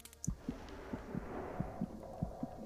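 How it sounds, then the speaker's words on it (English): A steady, soft heartbeat in the video game Self Delusion pulses in paired low thumps, repeating evenly at a moderate pace with nothing else over it. "Wait, am I supposed to hear a heartbeat?"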